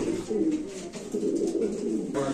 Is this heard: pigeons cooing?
yes